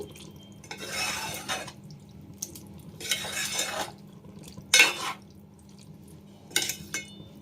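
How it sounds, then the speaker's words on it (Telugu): A spoon stirs eggs through brinjal curry in a pan, giving a few short scraping and splashing bursts with quiet gaps between them. The stirring sits close and fairly soft, with no talking over it. "ఇలా గుడ్లు వేసేసుకొని ఒకసారి తిప్పుకోవాలి ఫ్రెండ్స్"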